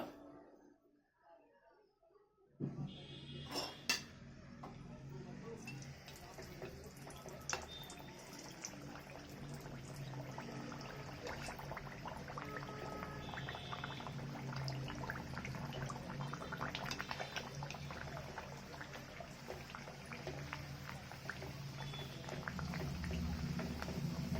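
Palm-fruit (tal) luchi dough rounds slipped into hot oil one at a time, setting off a steady, broad sizzle of deep frying that holds and builds after a quiet start, with a few sharper splashes early on.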